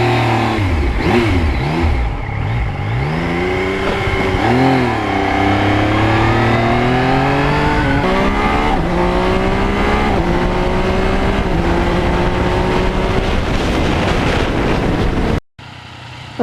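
A 2020 Yamaha MT-09 motorcycle engine drones and revs while riding along a road, rising and falling through gear changes with strong wind rush over the microphone, loud and continuous before cutting out briefly near the end.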